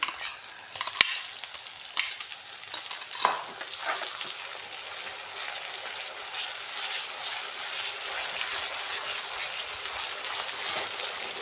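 Ground green chili and garlic fry in hot oil for a Marathi pithla, a steady close sizzle with a few sharp stirring clatters in the first seconds, then an even crackle to the end.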